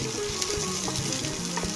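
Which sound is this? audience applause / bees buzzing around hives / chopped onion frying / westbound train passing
chopped onion frying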